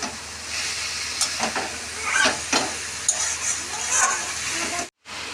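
Minced meat sautés in a hot pan, giving a steady sizzle and hiss broken by scraping stirs of a spatula, close and continuous, with a brief cut-out near the end.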